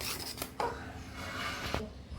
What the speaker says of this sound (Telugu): నైఫ్తోనో స్పూన్తోనో దేనికో దాంతో మొత్తం అంతా కలిసేటట్టుగా కలుపుకోవాలి.